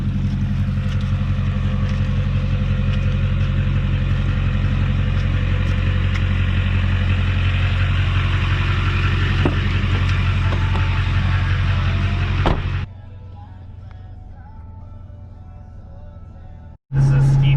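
A truck labours up a steep hill on a ranch, its engine a loud, steady low rumble that holds for about thirteen seconds, then cuts to a quieter hum before a brief final burst.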